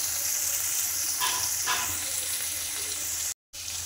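Onions fry in a pan with a bay leaf, a continuous close sizzle with a couple of brief louder surges, then a sudden short silence near the end.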